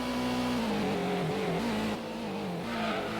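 A race car accelerating hard in the Gran Turismo PS1 video game, a loud, steady engine whine climbing through the gears with brief pitch drops at each shift, close and continuous.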